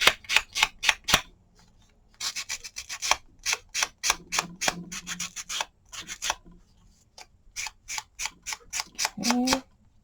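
Cardstock labels being sanded by hand, short rhythmic rasping strokes in quick bursts separated by pauses, close and fairly crisp, with a brief voice near the end.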